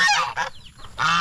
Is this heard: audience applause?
no